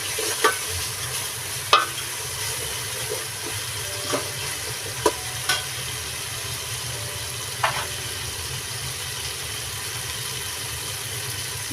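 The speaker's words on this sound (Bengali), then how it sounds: "এটা পেঁয়াজের সাথে কিছুক্ষণ ভেজে নিতে হবে" Ginger garlic paste sizzles with onions in a pan for a chicken kabsa, a steady close frying hiss broken by a few sharp clinks and scrapes of a stirring spoon, with no talk.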